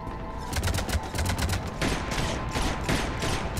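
Rapid handgun fire from Mass Effect 3, a dense run of sharp repeated shots over about three and a half seconds, steady and loud with overlapping bursts.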